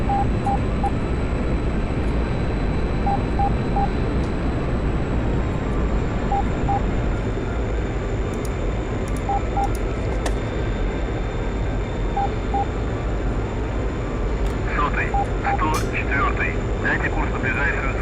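Steady, loud jet engine roar from a MiG-21 in the combat flight game DCS fills the whole stretch, with a faint tone and short radio-like blips over it and someone talking at times.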